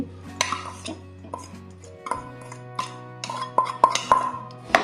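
Jaggery and ground chana dal for puran are stirred over low heat in a kadhai on the stove. Metal spoon clinks and scrapes ring against the pan in irregular bursts, and a steady low hum sits underneath.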